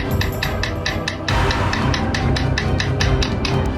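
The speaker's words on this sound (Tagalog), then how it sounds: "Hanggang gantihan nila ito ng pukpok gamit ang screwdriver." Repeated pounding with a screwdriver on a door or wall inside a house in Apalit, answering mysterious knocking; a steady train of sharp metallic strikes, loud and close, with a brief pause near the start before the banging resumes over a busy background.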